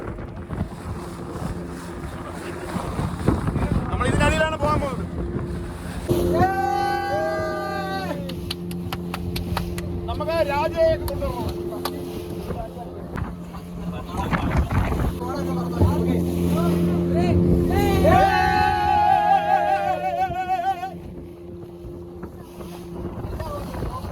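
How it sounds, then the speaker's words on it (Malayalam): A motorboat engine drones steadily heading out to sea, over wind buffeting the microphone and splashing water, with people talking and calling out over the noise at intervals. "നമ്മളിപ്പോൾ ഈ ഒരു ബോട്ടിലാണ് കടലിലോട്ട് പോകാൻ പോകുന്നത്"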